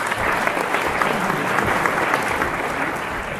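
Steady, full applause from a meetup audience in a Bucharest ballroom welcomes the speaker Victor to the stage, a dense wash of clapping lasting a few seconds without any speech.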